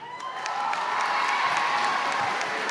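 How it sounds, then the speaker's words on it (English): Audience applause at an eighth grade student celebration ceremony, a steady wash of clapping and crowd noise that holds at an even, fairly loud level throughout. "I guess we're not doing so well with applause"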